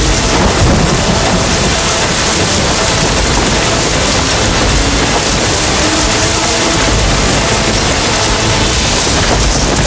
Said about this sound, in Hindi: अब तो बारिश भी शुरू हो गई